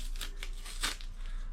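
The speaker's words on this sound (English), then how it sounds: "let me take the tape off of this" Adhesive tape peeled off a panel during a 1980s speed shop build, heard as a few short, crackling rips against steady low background hum.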